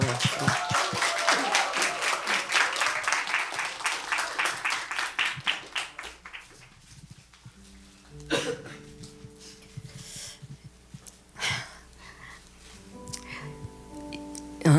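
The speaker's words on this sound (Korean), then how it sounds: "우리 집사님 떨리지 마시라고 격려의 박수로" A church congregation claps in encouragement at a Thanksgiving Sunday service, a loud dense burst of applause over the first six seconds that thins and fades, leaving sparse room sounds and faint voices.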